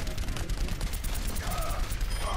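Rapid automatic gunfire from Soldier's rifle in an Overwatch match, a steady stream of shots over a dense, busy game soundscape.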